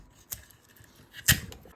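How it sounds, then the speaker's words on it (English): A sticker being peeled off an SSD, two brief ripping bursts: a short one early and a louder, longer tearing sound near the end, close up and with no talking. "But first let's remove the sticker."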